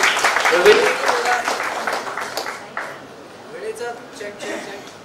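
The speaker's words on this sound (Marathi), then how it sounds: "जोरदार टाळ्या झाल्या पाहिजे" A crowd claps at a 50th wedding anniversary celebration. Dense applause swells at first and then fades while people keep talking over it.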